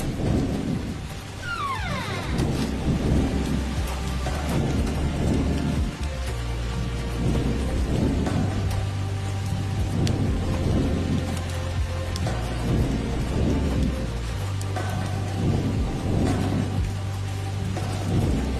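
Heavy rain pours steadily while rolling thunder rumbles again and again, loud and close, with no voices.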